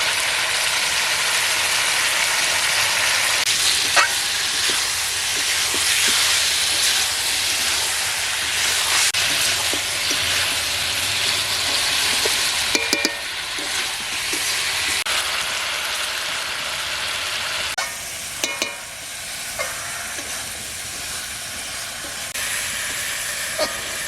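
Chicken curry of country chicken sizzles and hisses steadily in a pan while being stirred and sautéed in a village-style kitchen, with scattered scraping clinks from the spoon throughout.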